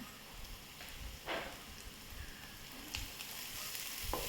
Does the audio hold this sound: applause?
no